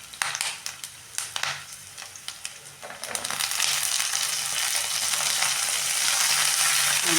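Chopped green beans hit hot oil in a pan for a wedding-style palya, first with a few light clattering drops, then a loud steady sizzle and crackle of frying that builds and holds, with no talking.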